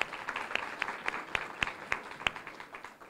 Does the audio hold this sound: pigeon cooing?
no